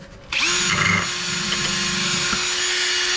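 A power tool buffs wooden Christmas trees with a Scotch-Brite pad, starting abruptly and then holding a steady, loud whirring hiss close by, with no talk.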